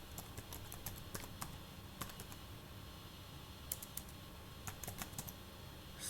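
Steady computer keyboard typing of code into a Django form template, a continuous run of soft clicks with occasional sharper keystrokes, fairly close and alone with no voices.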